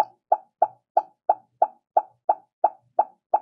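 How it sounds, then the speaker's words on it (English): A short pop sound effect from a Scratch project repeats eleven times at an even, quick rhythm, each pop crisp, loud and isolated against silence. "I'm going to grab a pop sound"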